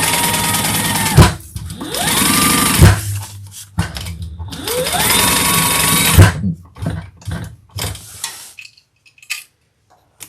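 A sewing machine stitches a crossbody bag using thick thread, in loud close bursts of rapid mechanical whirring that each last a couple of seconds, separated by clicks, knocks and handling sounds.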